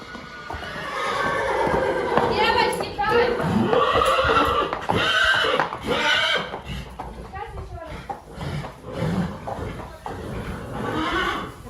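Horses evacuated from a children's equestrian sports school near Derhachi arrive at a stable, neighing and whinnying repeatedly, with hooves clopping, while people talk throughout.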